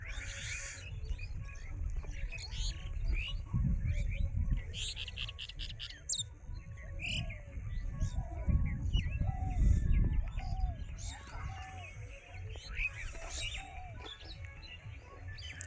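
Many birds chirp and call at once at a riverside char at dawn, with mustard fields and banana groves nearby; bright tweets and whistles stack over a steady low rumble, likely wind or a boat motor, throughout.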